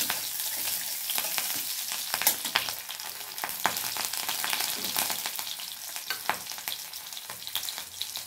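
White cumin seeds and green chillies hit hot oil for a Bengali mulo dal, making a constant bright sizzle with occasional stirring scrapes and pops, close and with no talk.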